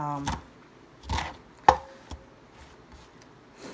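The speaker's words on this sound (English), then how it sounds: "So there's some bell peppers I'm chopping up in here." A knife chops bell peppers on a board, with a handful of separate crisp cuts spaced out irregularly, close and fairly quiet.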